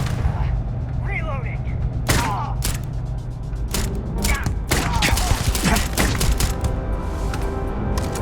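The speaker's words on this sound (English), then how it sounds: "Where are they shooting?" Gunfire crackles during a zero-gravity firefight in Starfield, a dense run of sharp shots in quick irregular bursts under a steady ambient hum, with a player's voice heard over it.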